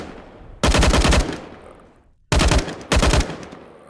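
Bursts of automatic gunfire from the video game Down to One: one long rapid burst, a pause, then two more short bursts. The shots are loud and close, with no talking.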